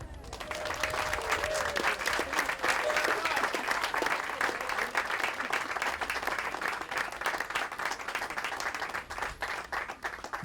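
Sustained audience applause at a Civil War heritage event fills the space after a fife-and-drum Yankee Doodle performance, dense steady clapping from a crowd lasting about ten seconds with a faint trailing voice near the start.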